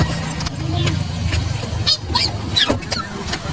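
Ducks honk and quack in short, scattered bursts while swimming, several calls standing out close by over a low background hum and some voices talking.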